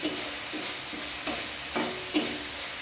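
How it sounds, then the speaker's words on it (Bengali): Spice paste sautés in hot oil in a pan with a steady, close sizzle, broken by a few sharp stirring scrapes. "তাই বলছি যে ভালো করে এই মশলাটা একটু কষিয়ে নেবেন"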